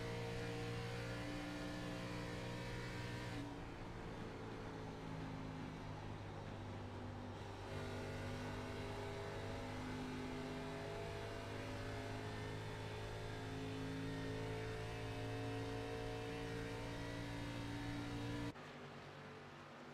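Race cars accelerating during a race at Atlanta, a steady droning engine whine that holds at a loud, even level for the whole stretch and drops off sharply just before the end.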